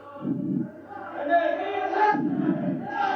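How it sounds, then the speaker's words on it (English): A crowd of protesters at a county board meeting shouts and chants in loud rising bursts, voices swelling together several times against a quiet room background. "You like the crowds, Senor Fletcher?"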